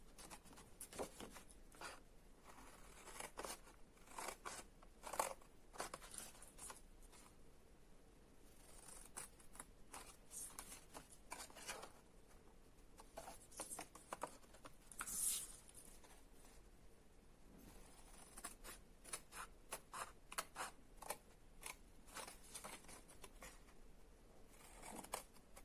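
Cuts are made into a 3.5 cm rectangle for a tissue case: soft, quiet snips and rustles repeat irregularly through a hushed room with no talk.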